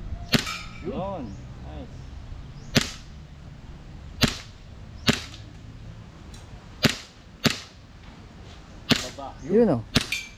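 Airgun fired at targets at a campsite with a swimming pool: about eight sharp, close cracks at uneven intervals, each with a quick metallic ring, while people speak briefly between shots.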